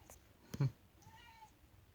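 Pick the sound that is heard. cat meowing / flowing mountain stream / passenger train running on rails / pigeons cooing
cat meowing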